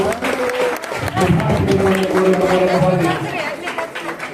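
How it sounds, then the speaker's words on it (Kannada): A crowd claps at a centenary celebration and tulabhara ceremony, with a steady rattle of applause under a loud voice and sustained tonal music. "ನಾವೆಲ್ಲ ಜೋರಾಗಿ ಚಪ್ಪಾಳೆಯನ್ನು ತಟ್ಟೋಣ."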